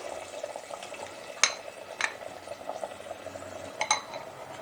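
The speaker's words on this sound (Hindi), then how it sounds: "अब हम इनको मिक्स करते हैं।" A spoon stirs ground chickpeas into a pot of simmering chickpeas for Lahori chikkar cholay, with several sharp metal clinks against the pan over a quiet, steady cooking hiss.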